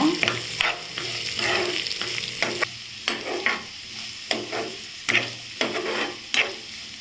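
Small onions sauté in a pan for mutton kola urundai, with a loud continuous sizzle broken by a run of rhythmic spatula scrapes and stirs, close up and without talking.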